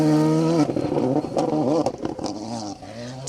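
A rally car on a gravel stage of the Cambrian Rally roars past close by, its engine note rising and dropping through gear changes, with a gravel spray and a fading tail at the end.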